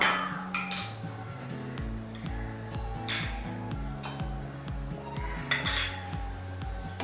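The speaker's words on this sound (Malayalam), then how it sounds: "ഒന്ന് ഇളക്കുക." Spoon stirring a seasoned mixture of pepper and sugar in a bowl, with repeated light clinks and scrapes against the bowl, close by, over steady background music.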